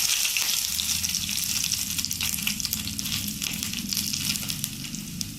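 Mustard seeds crackle and sizzle in hot oil for a curd rice tempering, a steady, dense, close-up spattering that holds at an even loudness throughout, with no voices.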